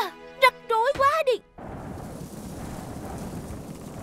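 A cartoon thunderstorm: steady, dense rain with a low rumble of thunder rolls in right after a character's animated speech and continues alone to the end.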